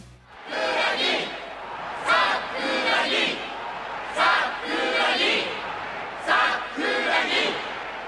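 Spectators cheering courtside at a high school basketball game in the Slam Dunk anime, a roaring crowd shouting in repeated surging waves about a second apart, loud and close.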